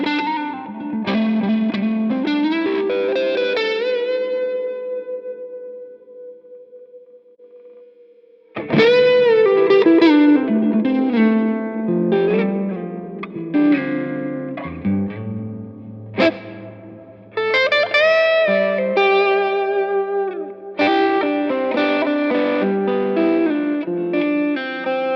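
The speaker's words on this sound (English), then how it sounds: "I don't know if I call that a spring reverb, but it sounds good" Electric guitar played through a Two Notes Torpedo Captor X with a reverb effect, loud and near: sustained chords and melodic runs ring out with a lush, non-spring reverb tail that lingers after each phrase, with no voice.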